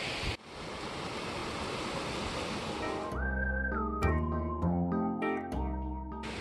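Steady broadband rushing of a river in Cyprus fills the first half, then gives way to whistling tones and clatter over a softer water background.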